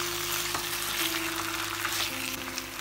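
Chicken pieces in masala for pepper chicken sizzle and fry in a kadai while being stirred, a steady close crackle with soft scraping throughout and a faint steady tone underneath.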